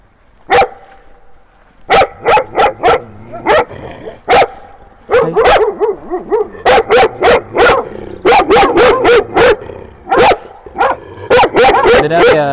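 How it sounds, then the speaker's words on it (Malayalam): Dogs barking loudly and close by in irregular bursts of sharp, repeated barks, some quick runs of several barks followed by brief pauses. "പട്ടി കുറയ്ക്കുന്നതൊക്കെ ഭയങ്കര പേടിയാണ്"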